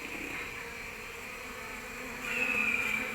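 Honeybees hum and buzz steadily at a nest box, a close, continuous drone, with a slightly louder, higher buzz rising near the end as one bee butts another.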